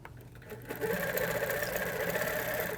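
An HQ Avanté longarm sewing machine stitches in free-motion quilting, a steady close whir that starts softly and swells to a continuous loud hum after the first half-second.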